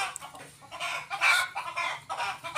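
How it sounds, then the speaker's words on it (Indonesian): A fighting rooster at a rural cattle-keeping home clucks in repeated bursts and breaks into a crow, loud and close, with no talk over it. "wah ada ayam tarungnya itu guys"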